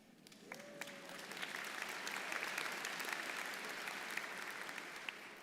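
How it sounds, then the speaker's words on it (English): Applause for award winners at a DAR Continental Congress education awards night, a large crowd clapping steadily for about five seconds, heard from some distance and fading slightly toward the end. "Let us give them one more round of applause."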